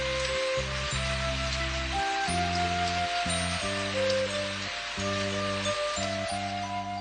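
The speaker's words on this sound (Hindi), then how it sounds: "अरे बारिश शुरू हो गई।" Rain falls in a Hindi cartoon scene, a steady soft hiss running the whole way beneath loud background music.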